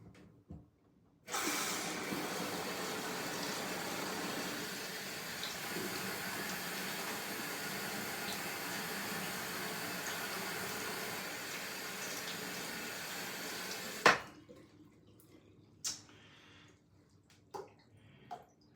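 Tap water runs steadily at a bathroom sink while the face is wetted for a shave, a continuous close hiss that stops abruptly, followed by a few faint splashes and drips.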